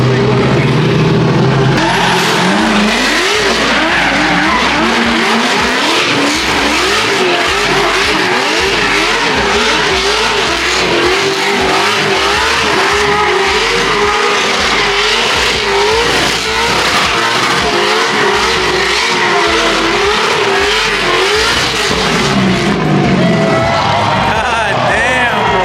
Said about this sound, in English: Usually at the end they do donuts right now